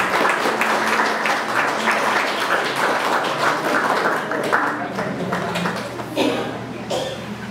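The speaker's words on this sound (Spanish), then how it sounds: "ahora sí le damos un fuerte aplauso" Steady applause from a congregation at a baptism, many hands clapping loudly and continuously, fading slightly toward the end.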